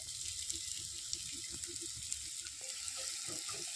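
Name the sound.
chopped onion frying in hot oil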